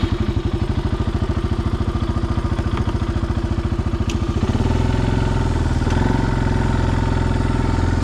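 An ATV fitted with a snow plow sits close by with its engine chugging in a rapid even idle, then the pitch and roar rise into a steadier, louder running drone, with no talk.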